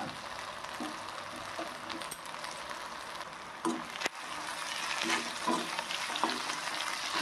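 Ginger, garlic, turmeric and asafoetida fry in a pan with a soft, steady sizzle, faint and close, with occasional stirring scrapes and clinks.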